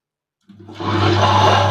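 Electric wet grinder starting up to grind millet and rice batter, silent at first, then a motor hum and dense churning whir that quickly swells to a loud, steady drone, close by with no talk.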